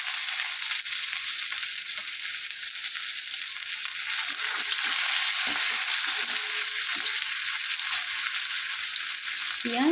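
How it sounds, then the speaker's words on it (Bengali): Chopped onion frying in hot oil in a pan, a constant close bright sizzle with occasional soft stirring scrapes, for a fish-head mixed vegetable curry. "পেঁয়াজটা ভাজতে দিতে হবে।"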